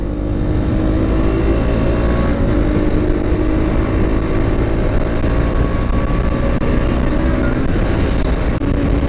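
A KTM Duke 200 BS6 motorcycle rides along a mountain road, its engine a loud, steady, close-up drone with strong wind rush throughout and no speech.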